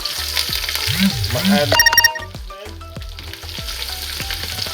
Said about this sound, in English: I'm gonna have them sauteed